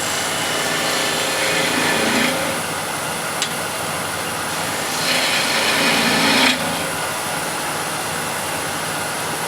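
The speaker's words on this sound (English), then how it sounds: "taper this in slightly with the ball gouge" A ball gouge cutting a spinning wooden disc flower vase on a lathe, giving a steady close hiss and rasp that swells in two longer passes, with no talking.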